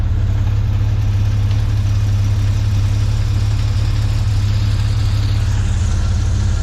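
Ford Fairlane with a Crossflow 250 six-cylinder engine and an upgraded exhaust idles close by, a steady, loud, deep rumble with a constant low throb and no voices.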